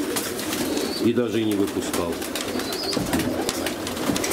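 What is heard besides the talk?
pigeons cooing and flapping in an aviary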